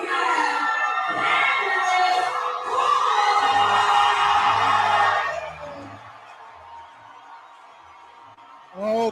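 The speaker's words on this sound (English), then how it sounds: "The crowd goes crazy." A boxing event crowd breaks into loud, sustained cheering, whooping and shouting for several seconds, then falls to a lower murmur before a fresh burst rises at the very end.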